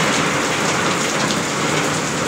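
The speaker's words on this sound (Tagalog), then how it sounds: "Kanina lang, diba, narinig nyo? Lakas ng ulan." Heavy typhoon rain pours steadily and loudly, a dense continuous hiss of water hitting surfaces with no break and no voices over it.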